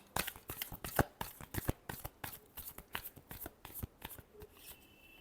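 Tarot cards being shuffled by hand in a quick run of crisp riffling slaps and flutters, close and fairly steady, with no talking over them.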